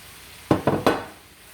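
Three quick close thuds and scrapes as rustic meatballs go into a pan with spiralized vegetables, each landing followed by a brief soft sizzle that fades within a second.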